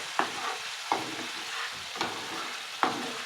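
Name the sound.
ground coriander leaves and green chili paste added to frying chicken curry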